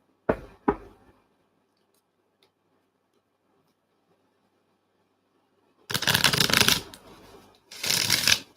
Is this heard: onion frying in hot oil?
no